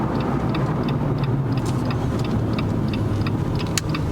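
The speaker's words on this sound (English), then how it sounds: "You get a little road noise from the tires" Tyre road noise from a Jeep Wrangler JLU on the interstate makes a steady, loud low rumble inside the cabin, with a regular soft ticking over it.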